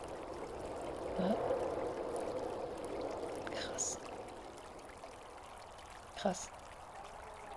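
Thin trickle of flowing water in the video game MIND: Path to Thalamus, a steady soft wash running throughout, with a voice briefly speaking over it.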